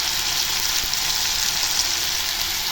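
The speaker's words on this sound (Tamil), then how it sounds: "உருளைக்கிழங்கு ஆட் பண்ணி நல்லா இதோட ஃப்ரை பண்ணிடலாம்." Potatoes and masala spices fry in hot oil for a chicken gravy, giving a close, continuous, even sizzle with no talking.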